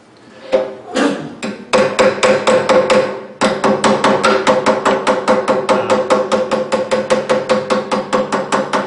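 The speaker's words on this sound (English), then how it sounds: "Then we'll get my repainting hammer" Rapid, steady metallic hammer taps ring out close by in a woodturning workshop while making a peppermill, a brief burst first, then a long regular run of sharp strikes with bright overtones.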